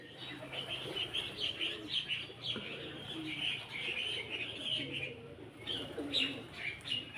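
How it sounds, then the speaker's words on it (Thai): A white pigeon coos softly among other chirping birds in the evening grounds of Phra Tamnak Kham Yat palace, a wooden building in Pho Thong, Ang Thong, with steady overlapping calls and a faint background murmur. "นี่เจอนกพิราบขาว สวยทีเดียว"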